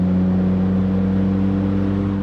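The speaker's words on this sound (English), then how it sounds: "Exhaust leak, boys. I know y'all hear that." A car with an exhaust leak idles with a loud, steady low rumble and a tight, buzzy drone, held unbroken and close.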